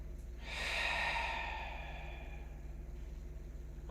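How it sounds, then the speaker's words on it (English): One slow, deep belly breath at the close of a strength flow workout, a soft, close, airy inhale swelling then easing into a long exhale over a quiet background. "How about 1 belly breath for the road?"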